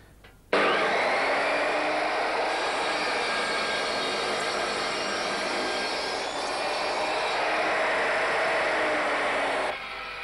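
A Triton saw cuts a piece of wood held against the mitre gauge, starting abruptly and running as a loud, steady whine for about nine seconds before stopping.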